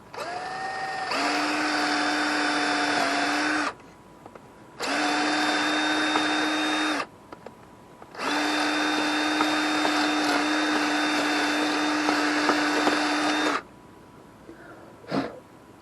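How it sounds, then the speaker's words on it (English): Power drill boring out a part on a Jeep Compass front end, whining loudly in three long sustained bursts separated by short pauses, with a brief knock at the end. "While I'm at it, drill that out too."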